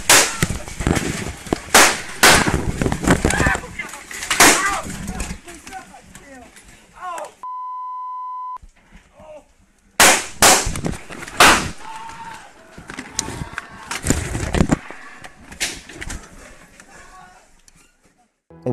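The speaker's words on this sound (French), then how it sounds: "On peut entendre des coups de feu interrompre le jeu" Several sharp, loud gunshots burst out in irregular clusters amid shouting voices, with a brief steady beep tone in the middle.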